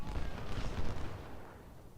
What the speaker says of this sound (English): the enemy's hitting us with artillery too